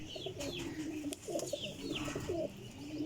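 Pigeons, golden-marked 'heera' birds among them, coo repeatedly in a close, steady chorus, with higher chirps and rustling mixed in throughout.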